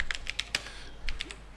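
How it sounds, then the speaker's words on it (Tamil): Computer keyboard keys tapped in a short irregular burst of light clicks, close and fairly quiet, while shortcuts are entered in Notepad; no voices. "திரும்ப கீபோர்ட் டைப் பண்ணிவிட்டு"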